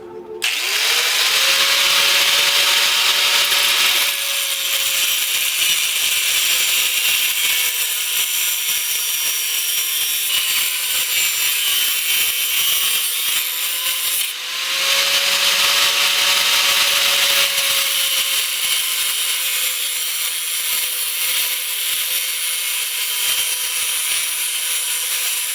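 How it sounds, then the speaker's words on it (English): A power cut-off saw slices through material in a garage workshop, a loud sustained high whine that holds steady for about thirteen seconds, dips briefly, then starts a second equally loud continuous cut. "Got my cut-off device here."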